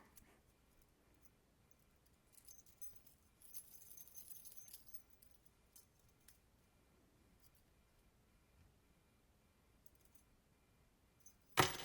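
A small bunch of keys jangles softly up close in a quiet room, with a faint rustle in the middle and one sharper clink at the end.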